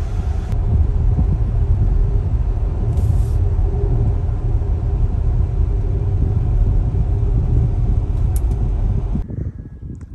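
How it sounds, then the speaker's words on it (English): A Tesla Model X towing a trailer loaded with aluminum cruises along a highway, making a steady, loud rumble of road and wind noise that fades near the end. "Heading home now with a trailer full of aluminum."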